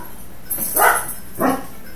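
Dogs at home barking, two sharp barks about half a second apart, fairly close and loud over a quiet room.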